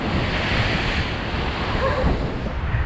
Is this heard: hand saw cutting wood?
no